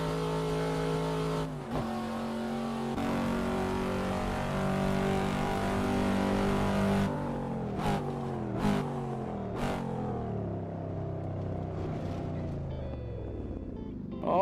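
Engine of a Cadillac CT5 in a racing simulator game, a steady sustained drone that shifts pitch across gear changes, followed by several sharp downshift blips and a falling, decelerating whine.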